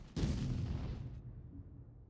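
A tank gun fires in a tank battle video game: one sharp, heavy blast near and loud, with a rumbling tail that fades over about two seconds, no talk.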